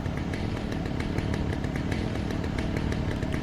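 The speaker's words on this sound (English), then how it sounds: "Oh, that's never a good sound, is it? No, it isn't. Yeah, unfortunately, the big fellas with the chainsaw" Chainsaw carried by a hulking enemy in Alan Wake, a continuous loud buzzing engine whine with rapid rhythmic chatter, close and unbroken throughout.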